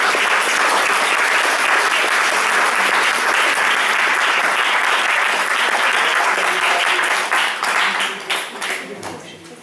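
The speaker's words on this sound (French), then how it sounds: "Et je vous demande d'applaudir très chaleureusement." A dense, loud burst of audience applause after a reading of the novel Pas pleurer, steady for most of the stretch before thinning into scattered claps at the end.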